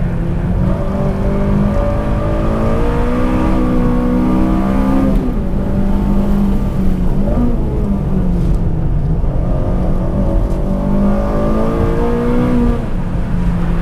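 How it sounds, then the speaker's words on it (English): A Honda Civic Si race car on a track, heard from inside as its engine drones loudly and steadily, the pitch dipping under braking and climbing again as it accelerates, with no talk. "I'm braking as late as I dare."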